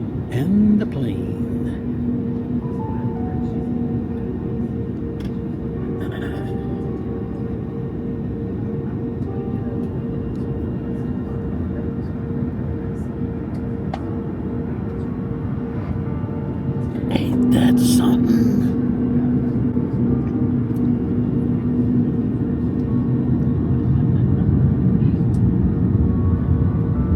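A passenger airplane taxis out after wing de-icing on a flight to Anaheim, California, heard from inside the cabin as a steady low engine rumble and hum that swells slightly partway through, with occasional clatter.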